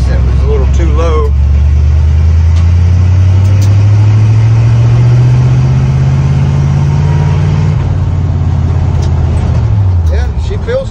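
A 1953 International truck engine drones loud and close while driving, its low note climbing steadily in pitch through the gear as the truck pulls, then dropping off near the end.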